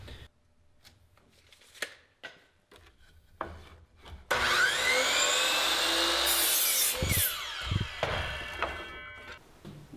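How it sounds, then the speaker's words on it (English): A table saw cuts OSB plywood pieces. A few quiet knocks and handling sounds come first, then a loud sustained whine of the blade through the board that rises and falls toward the end. "We're also going to cut 4 vertical pieces that are going to tie the corners together of the OSB plywood."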